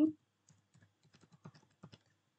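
Keys click on a computer keyboard during accounting data entry, quiet and close, in an uneven run of light taps after a brief opening thump.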